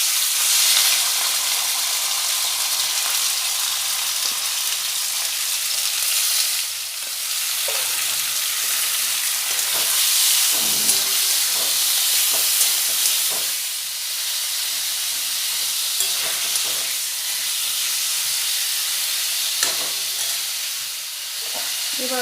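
Chopped, washed chicken fries in hot oil for chicken chowmein, a loud, continuous sizzle and hiss with occasional stirring scrapes and clinks of a utensil against the pan.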